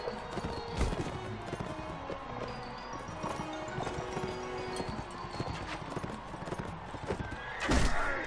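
Horses in the Mount and Blade Warband game tournament clip-clop at a steady gallop with a whinny breaking through, over dense game combat noise and music, with a loud burst near the end.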